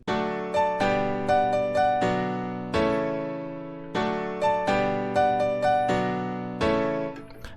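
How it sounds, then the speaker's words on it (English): A solo software piano in FL Studio plays a steady chord pattern, each chord struck cleanly and left to ring and decay before the next, close and moderately loud with no voices. "I have prepared 3 different pianos which sound like this."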